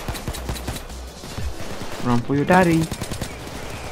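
Rapid bursts of video-game gunfire from a Payday 2 bank robbery shootout crackle through the clip beneath and between excited speech, rising to a louder volley near the end.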